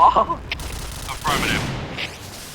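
Bursts of gunfire in a video game, a few sharp cracks and booms scattered across a short stretch, mixed with excited talking and game noise.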